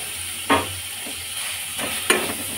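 Chhana and sugar being stirred in a wok, with a low, steady sizzle of frying and two or three louder scrapes of the spoon against the pan, close by and without talk.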